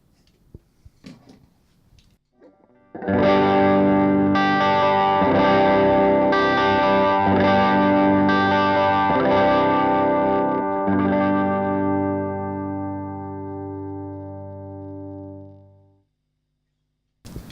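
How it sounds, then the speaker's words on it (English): Electric guitar chords played through a 9-meter signal chain without a buffer, strummed with a thick, slightly muddy distorted tone, several hits ringing together and then fading out slowly, close and loud. "Now I'm going to play some chords through this 9-meter length signal chain"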